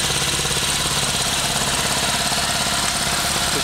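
A car engine idles steadily with a dense, even, slightly knocking rumble, close and continuous, with no speech.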